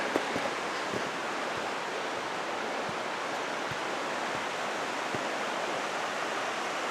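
A creek rushes far below a tall backcountry footbridge on Tiger Mountain, giving a steady, broad wash of flowing water that runs evenly throughout.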